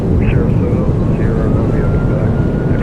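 An airliner's thrust reversers roar after touchdown on a Sun Country charter flight in Microsoft Flight Simulator, a loud, dense, continuous rumble with a faint rising whine above it.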